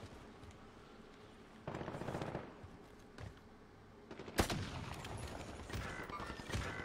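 Video game gunfire in the battle-royale mode Rebirth, heard as several short bursts of automatic fire with quieter gaps between them, growing denser and louder toward the end, with no voices.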